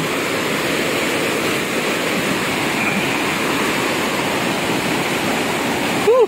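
Aliwagwag Falls roars as a dense, unbroken rush of falling water, loud and constant throughout.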